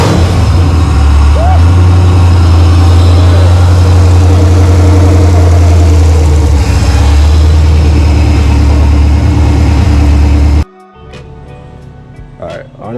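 A GM LS3 V8 swapped into a Nissan 350Z starts up and idles with a loud, deep, steady rumble for most of the clip, then cuts off abruptly near the end, leaving quieter shop noise with a few clanks.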